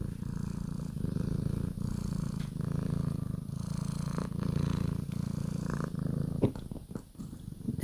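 A pet cat purrs steadily and close by after a salmon treat, a low continuous rumble with soft rhythmic pulses and a few small shifts near the end.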